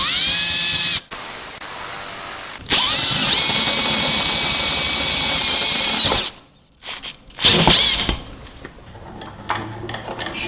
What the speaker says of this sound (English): So I'm gonna drill these other ones to 5/8.